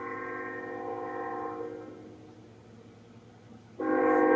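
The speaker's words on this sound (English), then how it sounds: "Here comes the train." A southbound Union Pacific ES44AC-hauled mixed freight train in Vinita, Oklahoma sounds a sustained horn chord, fades out, then blasts again louder as the train draws closer, over a low rumble.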